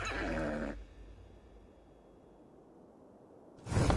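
A horse in Assassin's Creed Valhalla whinnies loudly and briefly at the start, then only faint in-game ambience follows before another loud burst at the end.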